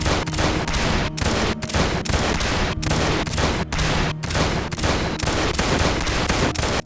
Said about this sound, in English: Then I used the gun to clear the infantry.